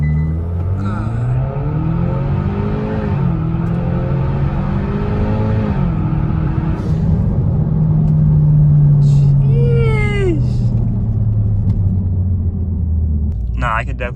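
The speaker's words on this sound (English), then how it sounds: "They're like loud burbles, but like the car's never done that before." Exhaust burbles from a Kia Stinger 2.0 tuned with a race chip, a deep engine rumble with revving swells over steady cabin drone, heard close from inside the car while someone talks excitedly over it.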